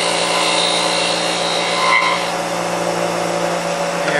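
A power tool cutting wood to shape holiday ornaments, a loud, continuous whining grind that holds steady and close throughout, with no voices.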